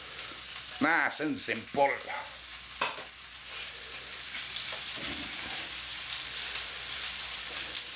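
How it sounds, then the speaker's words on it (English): Beef sizzling as it sears in a hot pan for a slow cooker beef bourguignon, a steady hissing crackle with a few brief knocks early on and a short spoken phrase over it. "while that beef's searing away"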